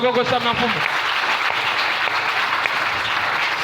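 A church congregation bursts into sustained applause in acclamation, a dense, steady wash of many hands clapping that continues throughout, with a voice heard briefly at the start.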